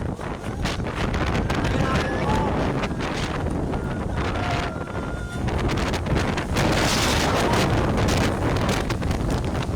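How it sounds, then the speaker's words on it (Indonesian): Tornado-force winds tearing through Padalarang and Cimareme near Bandung, a loud continuous roar of wind buffeting the microphone with rushing gusts and scattered cracks and thuds of debris, with voices shouting faintly underneath. "kepanikan tidak terhindarkan saat suara retakan dahan pohon bersahutan dengan dentuman benda-benda yang terhempas angin"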